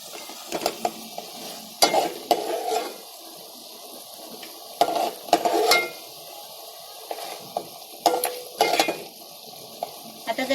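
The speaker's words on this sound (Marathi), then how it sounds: "आता जरा आहे ना मसाला सुकेपर्यंत थोडा गरम करायचा आहे" Cooked crab in masala is fried and stirred in a pan while the masala dries. A soft sizzle runs underneath, with intermittent close scrapes and clinks of a spoon against the pan.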